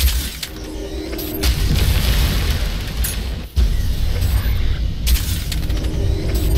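Grenade blast in the video game Crysis 3: a loud, dense booming rumble that fills the whole stretch, with a brief dip partway through before the heavy low roar resumes.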